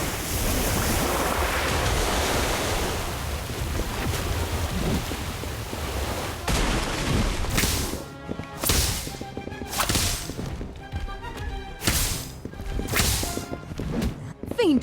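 A watery spell effect in the Harry Potter: Magic Awakened game surges with a rushing, wave-like wash, then gives way to a run of sharp whooshing bursts near the end.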